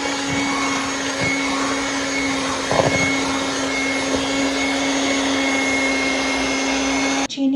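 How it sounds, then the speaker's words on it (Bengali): An electric blender whirs steadily and loudly while blending eggs for a mango cake in a home kitchen, a continuous motor drone holding for several seconds before cutting off abruptly at the end. "আর ডিমটা একসাথে ব্লেন্ড করে নিলাম"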